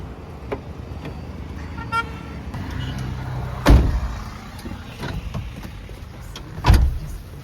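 A car idles with a low, steady hum from inside the cabin during a first driving lesson, broken by two heavy clunks like a door or seat being moved and a few softer clicks.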